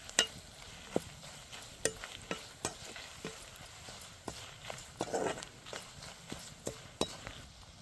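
A spoon stirs a frying mixture seasoned with turmeric in a pan for spinach fry, giving regular sharp taps and scrapes against the pan over a soft, faint sizzle.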